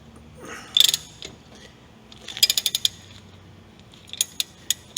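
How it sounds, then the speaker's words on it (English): A tool is screwed in to push a suspension axle out, giving close metallic ratcheting clicks in short bursts, some rapid and some spaced singly, over faint background hiss. "Just screw it in, tighten it in until the axle comes all the way out."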